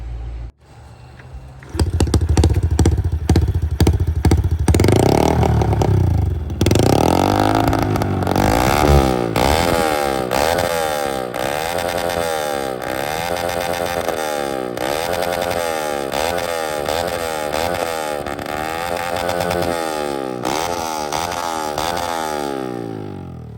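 A Honda Wave 110i motorcycle engine with a remapped ECU starts with a few sputters, then revs repeatedly, rising and falling in pitch, loud and close, with a rough idle between revs.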